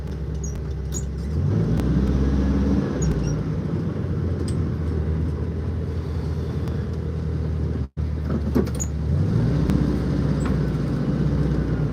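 Steady interior drone of a car driving home, engine and road rumble continuous throughout with a brief dropout and gear-change rises, no talking.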